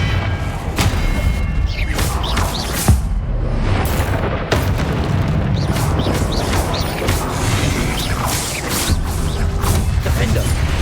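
Confringo and Incendio spells going off in Hogwarts Legacy combat, a run of heavy booms and thuds that land every second or so over a dense, continuous rumble of battle noise.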